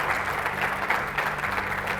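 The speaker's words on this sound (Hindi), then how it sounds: "मैं चाहता हूं एक बार मोदी जी के सम्मान में तालियां बजा दी जाए।" An audience breaks into applause in honour of Modi, dense even clapping from many people holding steady for about two seconds, with a faint low hum beneath.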